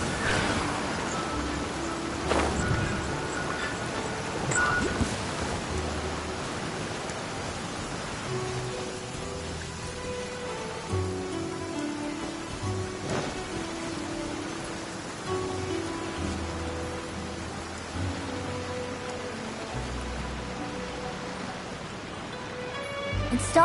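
Steady rain hissing in the video game Genshin Impact, Inazuma region, across the whole stretch, a dense wash of patter with a few faint tonal blips and clicks scattered through it.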